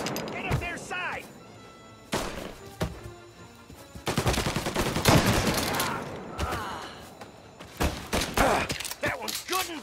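Gunfire in the video game Mafia Definitive Edition, with bursts of shots and rapid volleys spread across the clip, loud and mixed with shouted voices and game sound.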